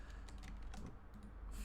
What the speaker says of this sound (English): Just fixing my keyboard here.